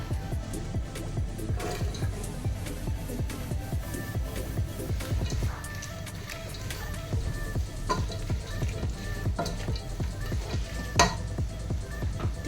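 Five large sliced onions fry in hot oil for chicken biryani, giving a continuous close sizzle with occasional stirring scrapes and small pops throughout.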